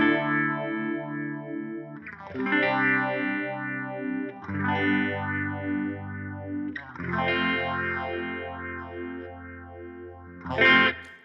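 Electric guitar chords ring out through an MXR Phase 90 phaser pedal, the tone sweeping up and down in slow whooshing cycles, with a few strums spaced apart.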